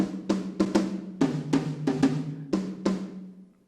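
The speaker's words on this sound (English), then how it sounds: "And then he has two tom-toms at the top," A series of resonant tom-tom drum hits in a loose rhythm, pitched mid-low with ringing tone, some strokes in quick pairs, played close and clear.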